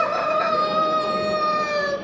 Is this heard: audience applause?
no